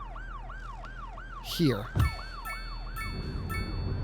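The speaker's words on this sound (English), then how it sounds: "That is a loud siren." A wailing emergency siren in the city-builder game Cities: Skylines 2 rises and falls in a steady repeating sweep, joined midway by brief thumps and a horn-like blare, with a short spoken word over it.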